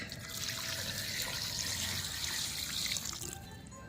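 Water pours steadily into a cooking pot with lemongrass for a few seconds, a close, continuous splashing gush that tapers off at the end.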